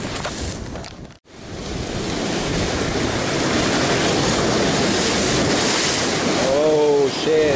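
Heavy ocean waves roar and wash against a rocky coast during rock fishing in rough conditions, a loud continuous surge with wind buffeting the microphone, a short dropout, then a brief higher-pitched call near the end.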